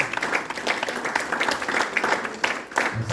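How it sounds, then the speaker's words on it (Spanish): A church congregation at a bilingual Sunday service breaks into steady, dense applause, a continuous wash of many hands clapping that stays loud and even throughout, with faint voices mixed in. "Un aplauso al Señor."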